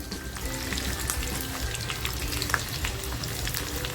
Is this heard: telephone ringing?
no